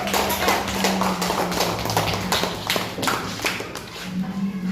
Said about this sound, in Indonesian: Kasih tepuk tangan, aplaus untuk kelompok 1